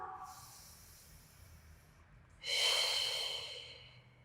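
Breathing during a beginner pilates core exercise for back pain: a soft airy inhale, a pause, then a louder, forceful hissing exhale, close and alone with no talk.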